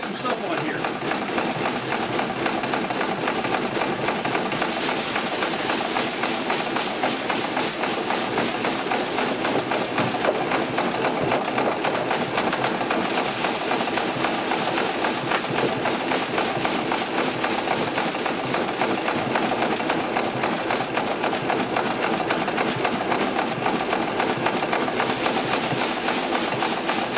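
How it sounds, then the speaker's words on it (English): A worm castings sorting machine runs with a steady, continuous mechanical rattle and hum, fairly close and constant throughout, while a person talks over it. "let's send this through the sorting machine. All right, we got it going."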